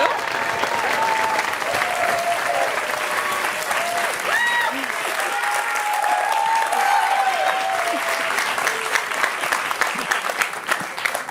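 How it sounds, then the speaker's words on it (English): Studio audience at a food game show applauds as contestants come out, a loud continuous burst of clapping with scattered cheers and whoops from the crowd throughout. "let's give them an extra big round of applause as they come out."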